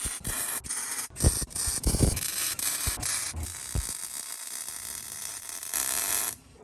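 Frame brackets are tack welded onto a 3rd gen Toyota 4Runner frame, giving short bursts of loud, crackling buzz with abrupt starts and stops and brief gaps, close up and without talk.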